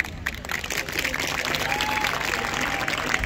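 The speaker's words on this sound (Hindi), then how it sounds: "जोरदार तालियां बेटा एक बार और" Loud applause from a school crowd at an annual sports day function with a wrestler as chief guest; dense, continuous clapping fills the whole stretch, with faint crowd murmur and a few voices underneath.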